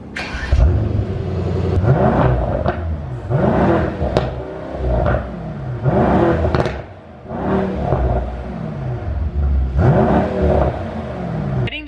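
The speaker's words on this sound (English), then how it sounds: "step one is seeing how this sounds from behind, revving the car stationary" A Mercedes-AMG E63 S with a straight-piped exhaust revs repeatedly while standing still, each rev rising sharply then falling back, loud and close, about six blips in a row.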